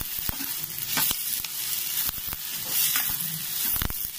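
Dried red chilies sauté in a pan for a sprouted-legume curry, sending out a continuous bright sizzle punctuated by sharp scrapes and taps of the stirring spoon.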